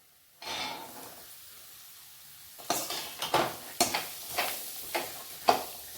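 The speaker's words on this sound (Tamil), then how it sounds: "எல்லாத்தையும் நல்லா மிக்ஸ் பண்ணலாம்" A spoon stirs boiled peanuts with homemade garam masala powder in a pan, with a soft rustle followed by a series of sharp scraping and clinking strokes at an uneven rhythm, close and fairly quiet.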